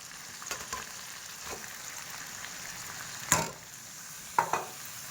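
A steady sizzle of flattened rice frying in a pan, with a couple of sharp scraping clatters as it is stirred.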